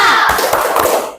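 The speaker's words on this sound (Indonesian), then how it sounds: "Tepuk semangat dulu." Classroom students performing a 'tepuk semangat' rhythmic clap routine, a dense burst of many hands clapping together, loud and close, running steadily before trailing off.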